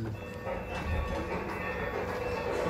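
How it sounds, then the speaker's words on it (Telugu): Train rolling along railway tracks near Bellampalli, a steady rumbling wash with a low, continuous roar that holds at an even loudness throughout, with no voices. "ట్రైన్ అయితే పోతుంది బెల్లంపల్లి నుంచి"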